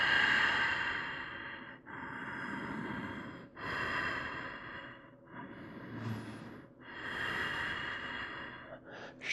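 Slow, steady breaths during a yoga class, taken while holding warrior two before triangle pose: long audible inhales and exhales in a repeating rhythm, close and moderately loud, with brief pauses between them.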